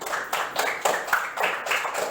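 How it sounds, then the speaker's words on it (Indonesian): Audience clapping at a teacher-training classroom session in Indonesia, a few pairs of hands giving distinct, slightly uneven claps in a short burst, fairly close and moderately loud with no talk over it. "boleh kasih tepuk tangan?"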